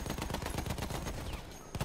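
An MG15 light machine gun in Battlefield 1 fires a steady, rapid automatic burst of shots, a brief pause near the end before a couple more rounds, heard moderately loud with no talking.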